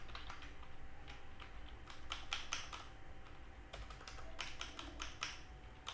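Computer keyboard typing while C code is entered, a steady run of quick clicks with bursts of faster keystrokes over a low background hum, no talking.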